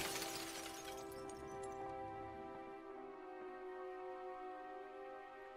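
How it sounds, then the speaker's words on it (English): In the video game DREDGE, a collector's face shatters and falls to the ground: a loud, bright glassy smash that breaks apart, then a sustained shimmering ring that fades slowly. "His face shatters and falls to the ground."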